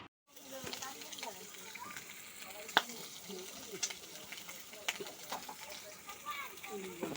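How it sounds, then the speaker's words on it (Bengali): Four eggs frying in a pan, with a steady sizzle and crackle plus a few sharp clinks of a utensil, heard at close range beneath background voices. "এখানে চারটে ডিম ভাজা করছি"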